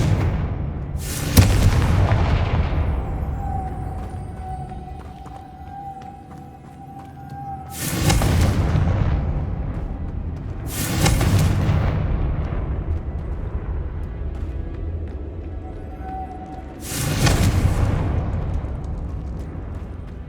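Confringo spell blasts in the video game Hogwarts Legacy, four heavy booming explosions spaced several seconds apart, each with a long rumbling decay over a continuous ambient wash, with no talk.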